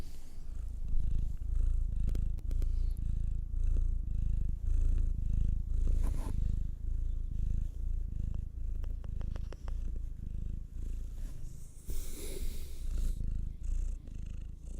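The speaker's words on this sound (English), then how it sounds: "Purring, but also planning her escape." A cat purrs close up in a steady, rumbling rhythm of soft breaths that carries on without a break, with a few faint rustles and clicks around it.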